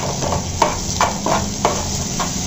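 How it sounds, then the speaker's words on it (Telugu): Egg curry ingredients fry in a pan with a steady sizzle, while a spatula stirs and scrapes against the pan in a few distinct knocks, close and continuous with no talking. "ఇప్పుడు దీన్ని మనం ఫ్రై చేద్దాం."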